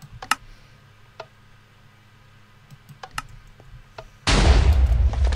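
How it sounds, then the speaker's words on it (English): TNT cannon in a block-building video game, sparse small clicks and ticks scattered over several seconds, then a sudden loud broadband explosion burst that carries on to the end. "it's a very effective cannon and does a pretty good amount of damage"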